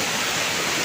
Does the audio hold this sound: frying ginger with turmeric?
no